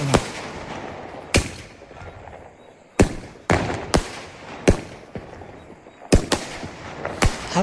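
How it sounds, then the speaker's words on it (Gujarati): A 50-shot box of patterned fireworks goes off at night in a village, with about a dozen sharp, loud cracks at irregular intervals and rumbling crackle between the blasts. "અંદર ફટાકિયામાં અલગ અલગ પેટર્નના ફટાકિયા છે."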